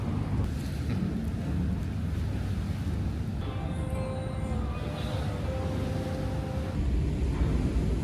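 Ships passing on the Sunda Strait at night, heard as a steady low rumble of distant engines with wind and lapping water, plus a faint tonal hum in the middle.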